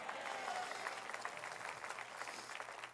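A church congregation at a Sunday service claps together in sustained, dense applause for about three seconds, heard from mid-distance with no clear talking over it.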